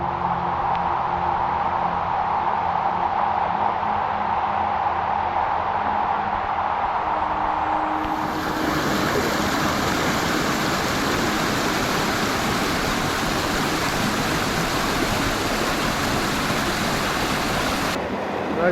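A river flows through the Bendola canyon, a continuous loud rushing of water heard up close. Partway through it swells into a brighter, fuller roar.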